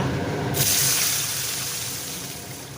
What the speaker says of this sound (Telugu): నేను ఎక్స్ట్రా కూడా పోస్తున్నాను అనమాట వాటర్